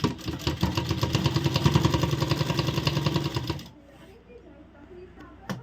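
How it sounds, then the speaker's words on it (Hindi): Sewing machine stitching a kurti collar, a close, steady run of rapid rhythmic needle clatter for about three and a half seconds before it stops and quiet handling noise follows. "सेम इसी तरह चारों तरफ हम सिलाई लगाएंगे।"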